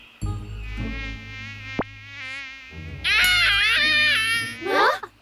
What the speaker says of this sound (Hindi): मच्छरों, चले जाओ यहाँ से।